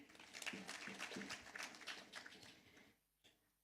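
Audience applause at the first graduation ceremony of Kaiboi National Polytechnic, a steady burst of clapping from a crowd that swells, holds for nearly three seconds, then fades out abruptly.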